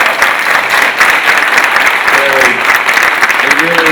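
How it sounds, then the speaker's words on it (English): Audience at a scoliosis awareness event applauding steadily and warmly for a few seconds, a dense wash of clapping with a brief voice near the end. "So please give these two a round of applause."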